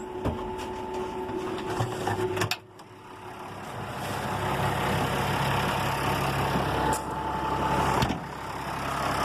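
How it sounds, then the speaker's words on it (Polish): A 2001 Renault Ares 640 truck engine idles with an even, steady diesel rumble, close by and unbroken apart from a couple of brief clunks. "Silnik chodzi bardzo ładnie."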